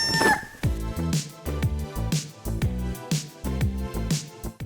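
Backyard chickens in the Pacific Northwest cluck and crow repeatedly in a steady, busy rhythm, close and fairly loud, with a strong rooster-like call at the start.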